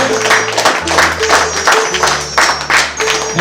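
Loud, close crowd applause for Alim Gazi on a Taki–Bangladesh group tour, steady dense clapping throughout with a low musical drone underneath.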